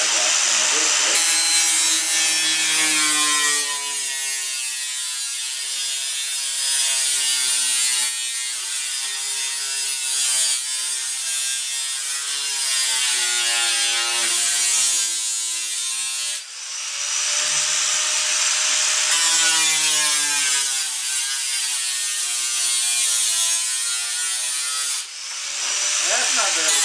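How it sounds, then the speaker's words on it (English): A Bauer cutter grinder cuts through a furnace heat duct, a loud continuous metallic grinding whine with brief dips as the blade shifts, running nearly nonstop close by. "my brand new Bauer cutter that I got. Grinder that I got from the refit."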